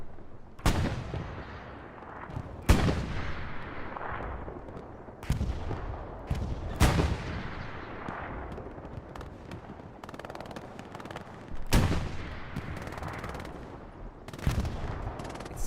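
Repeated loud booming blasts and bursts of gunfire from bombing runs in Hell Let Loose, spaced every couple of seconds over a rumbling battle din.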